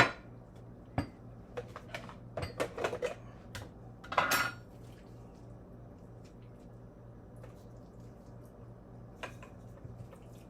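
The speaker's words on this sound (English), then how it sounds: "I am gonna mix all ingredients and blend them except the bread crumbs" Salmon roll ingredients are stirred in a bowl, giving scattered clinks and soft wet knocks of utensil against dish, busiest early and then thinning to occasional taps over a quiet hum.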